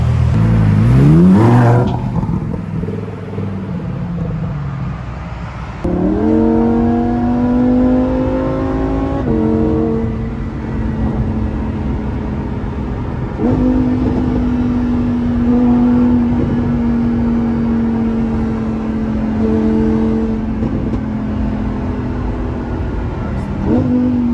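A new 2021 Lamborghini Huracan EVO engine revs and climbs through the gears, loud and close, with pitch rising in steps and then dropping at each shift several times over the whole stretch, with faint talk mixed in.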